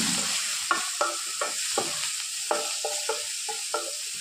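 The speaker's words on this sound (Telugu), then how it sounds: "ఇవన్నీ బాగా వేయించుకొని ఫ్రెండ్స్, పచ్చిమిర్చి బాగా వేగాలి." Sliced onions and finely chopped green chillies fry in hot oil with mustard seeds, cumin, urad dal and chana dal, giving a steady close sizzle broken by regular spatula scrapes and taps against the pan.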